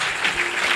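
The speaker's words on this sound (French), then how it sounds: "Acclame très fort, très fort" Church congregation applauding loudly, dense continuous clapping from many hands throughout the short moment.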